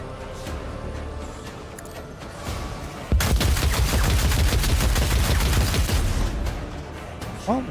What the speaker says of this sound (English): they actually are firing